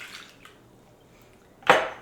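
Half a cup of water poured into a slow cooker with chicken bouillon, a single short splash near the end after a few faint drips, quiet and close.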